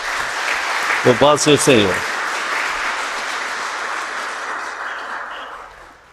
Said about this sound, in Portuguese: vamos dar um salmo de palmas para Jesus?